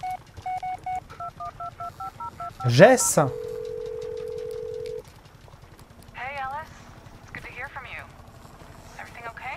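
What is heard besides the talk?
phone dialing tones in Blair Witch video game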